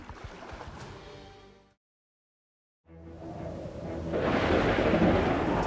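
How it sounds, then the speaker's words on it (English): A violent thunderstorm at sea, with a powerful wind threatening a ship. Rain hisses and thunder rumbles, then a short full silence, then the storm returns louder and denser, building steadily to the end. "the Lord sent a powerful wind, causing a violent storm that threatened to sink the ship"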